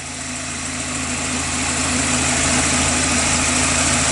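A VW Golf MK3 engine runs steadily after an ignition timing adjustment, a close, continuous mechanical drone with a faint whine, its level creeping up slightly as the revs rise, no talking.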